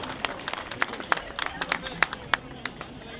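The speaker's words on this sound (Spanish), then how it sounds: "Fuerte el aplauso para la Orquesta Infantil" Scattered clapping from a school event audience for a children's orchestra in Pucón, Chile, fairly faint and thin, with sharp individual claps standing out over a low murmur.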